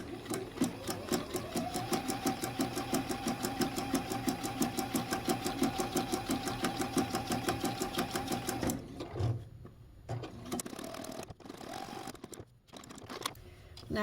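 A sewing machine stitches a snowman quilt in a fast, regular run of mechanical stitching clatter for about nine seconds, then stops, leaving a few scattered handling clicks and rustles.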